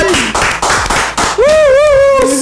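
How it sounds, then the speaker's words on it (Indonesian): Studio audience on a talk show with a skateboarder guest claps in a loud, rhythmic burst of about five beats. A raised, drawn-out voice cuts in right after and carries on alone. "tepuk tangan dulu lah. Tepuk tangan biar terus semangat."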